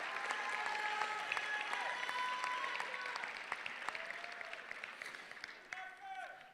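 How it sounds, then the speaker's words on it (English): An audience claps in sustained applause at an Olympic High School graduation ceremony in 2022, a dense wash of hands that slowly tapers, heard from a distance with some cheering voices mixed in. "can we give a big round of applause to the staff of Olympic High School?"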